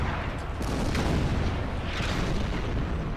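Artillery fire in the wartime strategy game Order of Battle: Panzerkrieg, a dense, continuous rumble of distant booms blending into a heavy roar, with no talking.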